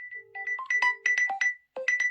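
A Samsung Galaxy S23 Ultra rings with an incoming call, playing a bright, clear melodic ringtone of quick rising and falling notes, close by and alone.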